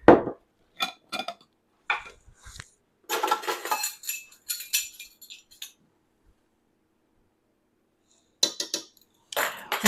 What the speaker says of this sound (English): I'm just going to add all the dry ingredients and then mix it.